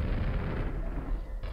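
Rocket launcher firing at an ogre in a lava-filled shooter level: a dense, continuous burst of blast and explosion noise with heavy low rumble lasting about a second and a half, alone and fairly close.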